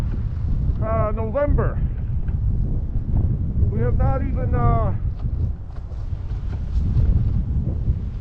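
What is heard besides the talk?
wind blowing on a snowy November day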